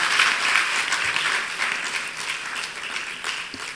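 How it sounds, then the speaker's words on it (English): A conference audience at a law session applauding steadily for a few seconds, the clapping dense and even, with no voices on top. "please, a round of applause once again."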